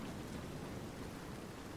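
Heavy rain pours down steadily in Medieval: Total War – Viking Invasion, a dense, even wash of broadband hiss that stays constant from start to finish with no voices over it.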